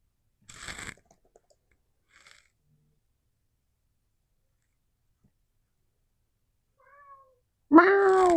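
A single cat meow rises loud and close at the very end of a cozy indoor yin yoga session, after mostly near-silence with a couple of faint rustles and a brief soft chirp.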